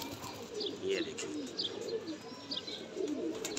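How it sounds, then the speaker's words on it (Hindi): Several high-flying breeder pigeons coo softly and repeatedly nearby, overlapping murmurs with occasional light chirps and faint wing rustles, no voices. "ये पट्ठे हैं, ये ब्रीडर कबूतर हैं इस साइड पे।"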